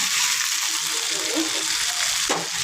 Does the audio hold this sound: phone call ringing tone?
no